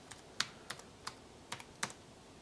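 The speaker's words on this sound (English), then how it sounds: "we simply open Firefox and we type in the IP" A computer keyboard being tapped while an IP address is entered into a web browser: about seven or eight crisp, separate keystrokes in an uneven rhythm, close and fairly quiet, with no voices.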